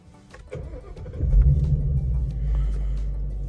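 A 2017 Ford Mustang GT 5.0L fastback with manual transmission cranks briefly, then fires up into a deep, loud rumbling idle that swells and holds steady, heard close and alone.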